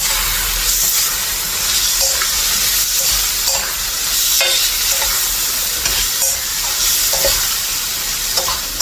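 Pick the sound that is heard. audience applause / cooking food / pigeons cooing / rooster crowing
cooking food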